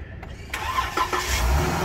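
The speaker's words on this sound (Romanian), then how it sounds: "și dacă pornește mașina." A car engine cranks and catches after a battery replacement, then settles into a steady mid-pitched running hum, heard up close with no talking.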